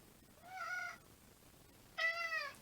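A pet cat indoors meows twice, each call clear and drawn out with a pause of about a second between them, heard alone in a quiet room.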